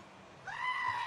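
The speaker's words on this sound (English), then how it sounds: "just like the goat emoji, it will come up, make the sound" A goat bleat plays as a livestream alert triggered by a goat emoji, a single brief nasal cry rising suddenly and holding, fairly faint and alone.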